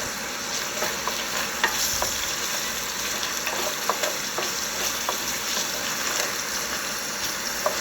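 Hot oil frying in a pan, with close, continuous crackling and scattered sharp pops throughout.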